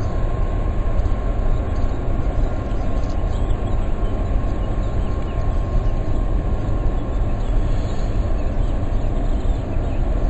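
A power plant at Gualdo Cattaneo gives off an unbroken, loud, low rumbling drone with a faint tonal hum, steady throughout with no voices.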